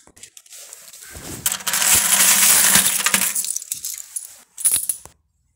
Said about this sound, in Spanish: ya terminamos de apilar todas las monedas